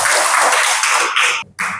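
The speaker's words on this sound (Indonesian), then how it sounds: "Oke, berikan tepuk tangan untuk kalian ya." Loud, close burst of classroom applause from a group of students, a dense wash of clapping that briefly cuts out near the end and then resumes.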